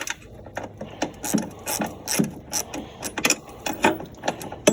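Ratchet clicking in quick repeated bursts while a Snapper riding mower's rear wheel and Briggs and Stratton engine are removed, close and fairly loud with short pauses between strokes.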